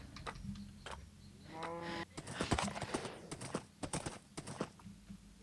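Hoof clops from a horse in Minecraft on a hardcore survival farm, a series of quiet, irregular clicky steps alongside game effects and a brief tonal chime, with no talking.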